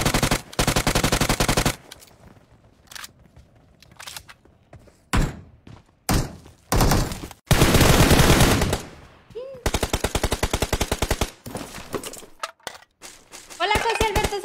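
Rapid automatic gunfire in an online shooter video game, loud bursts of fast repeated shots alternating with single cracks and gaps, with a player talking in between.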